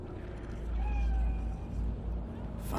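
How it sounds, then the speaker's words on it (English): Cat meowing in the video game Cyberpunk 2077, a single soft drawn-out meow over a low ambient game hum, fairly faint. "no sudden movements. Do you see it? The cat."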